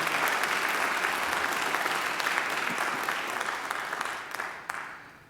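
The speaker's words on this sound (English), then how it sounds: "I think Sarah deserves another great round of applause for being such an important part of our ceremony today" Applause from the audience at a Macquarie University graduation ceremony: a dense, steady round of clapping from a large crowd that slowly thins and fades over about five seconds.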